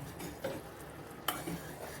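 A spoon stirring sugar syrup simmering over a very low flame for Maharashtrian son papdi sweet, a soft bubbling hiss with a couple of light scrapes and taps against the pan, close and quiet.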